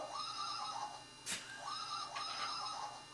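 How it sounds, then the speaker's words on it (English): A horse whinnies twice indoors in a living room, a rising then falling call, with a short sharp knock between the two. It is fairly close, with no talking. "Lots of horses in this living room"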